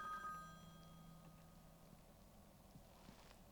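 A phone call ringing through a Sony head unit with Apple CarPlay fitted in a Mercedes CLK55: a steady electronic ring tone, moderately loud in the car cabin, carries through the clip with faint knocks and no talking.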